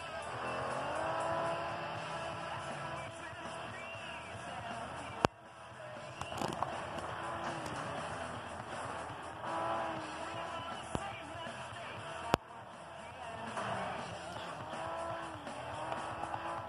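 Race cars in the FlatOut video game roar continuously with engine whine, tire squeals and a few sharp crash impacts, with faint talk mixed in.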